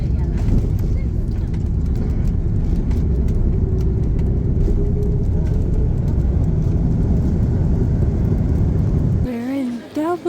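Steady, loud airplane cabin roar during the approach to Dublin with wing flaps extended, a continuous low rumble that holds evenly before cutting off abruptly near the end.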